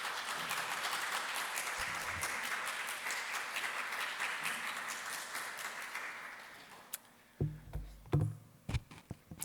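A crowd at a church service applauds steadily for several seconds, the clapping dense and continuous before it thins out, leaving a few scattered claps and thumps.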